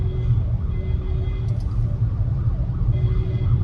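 An ambulance siren wails faintly in the distance. Its rising and falling tone sits under a constant low rumble of nearby traffic.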